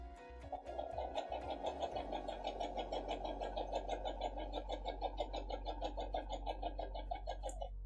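A sewing machine stitches a fabric napkin ring, its needle running in a fast, even close-up rhythm of rapid pulses after a few brief starting clicks, with no talking.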